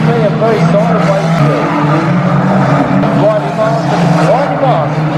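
A banger racing car slides sideways at Aldershot Raceway, its tyres squealing in rising and falling whines over a constant engine roar, while a race commentator talks excitedly over it.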